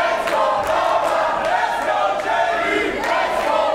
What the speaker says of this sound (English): the crowd split when it comes to reactions between these two gladiators